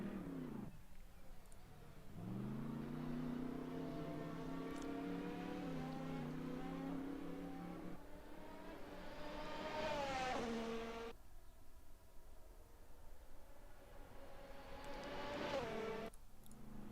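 Race cars idle and rev in the pit lane during a safety-car period at an ARC ACF1 race, engines rising and falling in pitch close by, one car pulling away around mid-clip and another revving near the end.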